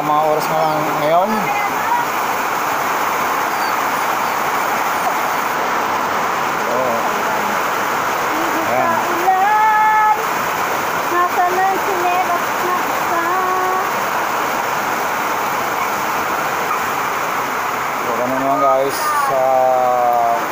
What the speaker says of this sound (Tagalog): ito po baha ng lugar namin dito